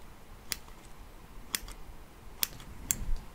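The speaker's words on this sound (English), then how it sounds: "Get my scissors." Scissors snip in a quiet ASMR surgical scene, giving four sharp, isolated metallic clicks about a second apart over a soft hushed background, close to the listener.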